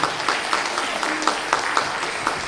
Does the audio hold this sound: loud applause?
yes